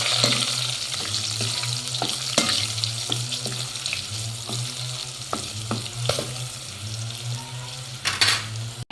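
Danggit and tulingan fish fry in a pan, a close, steady sizzle punctuated by repeated sharp clacks of a utensil against the pan, with a low hum of a stove burner underneath and a louder clatter near the end.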